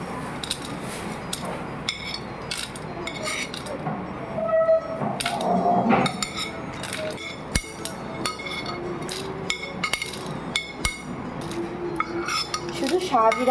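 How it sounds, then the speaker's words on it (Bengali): Whole spices for homemade biryani and pulao masala dry-roast in a kadai on low flame, with a spatula clinking and scraping against the metal in scattered, uneven taps and rattles at moderate volume. "এবার সব মশলাগুলো আমি কড়াইতে দিয়ে লো ফ্লেমে ভাজবো"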